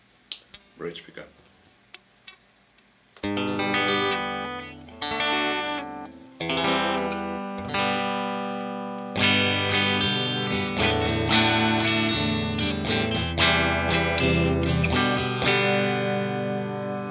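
A Fender Jazzmaster Vintera 60's electric guitar on the bridge pickup strums chords and picks notes after a few quiet taps, ringing loud and close with short pauses between phrases.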